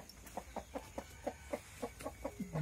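Hens and young pullets on a farm keep up a steady run of soft clucks, about a dozen evenly spaced, moderately close, ending in a longer drawn-out note.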